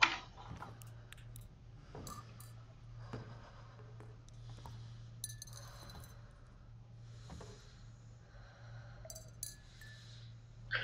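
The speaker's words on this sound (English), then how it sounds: "There's a clicking sound. Not clinking, clanking." Faint, scattered clicks and metallic clanks in the DARQ video game, irregular and sparse over a low steady hum, quiet and somewhat distant.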